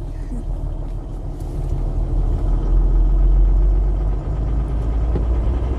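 An empty 4x4 truck, carrying only its engine and cab, drives and accelerates with a steady loud low engine rumble that swells midway and holds, with no talk over it.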